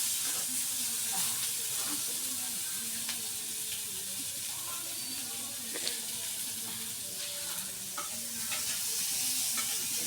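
Onion frying in a little oil for a fish bhuna, a steady soft sizzle with occasional stirring scrapes and clinks across the whole stretch, fairly quiet and close, with no one talking.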